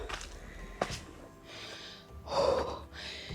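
Heavy, labored breathing after a mountain climb, with sharp gasping inhales and rough exhales, close up, as if someone is winded.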